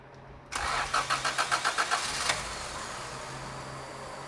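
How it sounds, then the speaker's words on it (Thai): A car engine with a freshly repaired carburetor cranks with a rapid series of starter pulses for under two seconds, then catches and settles into a steady idle hum. "เอาลองสตาร์ทเครื่องดู"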